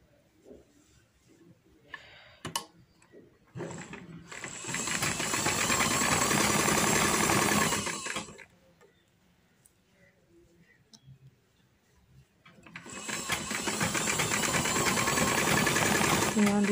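A sewing machine stitches pintucks on trousers in two loud, steady whirring runs of about four seconds each, separated by quiet handling clicks and shifting of fabric.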